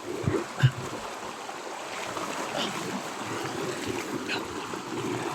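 Strong water rushes steadily, a broad continuous roar like a fast stream, with a couple of faint knocks early on.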